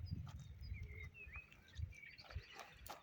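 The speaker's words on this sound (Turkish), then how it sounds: "Sesi duyuyor musunuz kuş seslerini?" Thin bird chirps and whistled calls come from the distance, scattered and faint, over low rustling and a few soft thuds.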